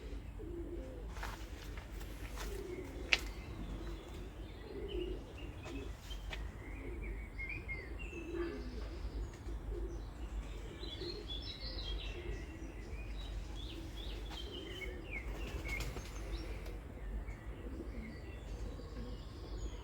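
Soft, low pigeon coos drift through a quiet outdoor background with occasional faint chirps and one brief sharp click.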